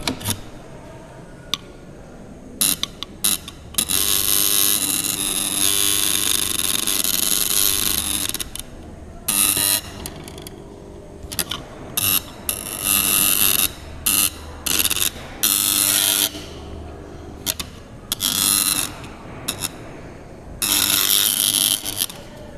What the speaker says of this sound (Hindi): तो यहाँ पर आप सुन सकते हो कैसे हमिंग का साउंड हो रहा है।